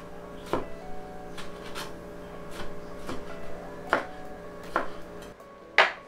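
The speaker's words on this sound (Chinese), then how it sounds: "番茄的话切粒，切成一颗一颗的，或是就一样把它切碎啦" A knife chops tomato into small pieces on a cutting board, about ten sharp, irregular taps close by, with a faint steady hum behind them and no speech.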